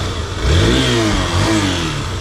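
A Hero XPulse 200T 200cc motorcycle engine accelerating on a short city ride, a loud, close rising rev with a steady rumble that climbs and holds.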